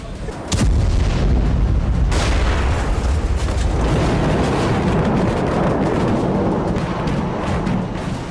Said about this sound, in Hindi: इजराइल ने पूरे ऑपरेशन में कुल 85 बंकर बस्टर बमों का इस्तेमाल किया।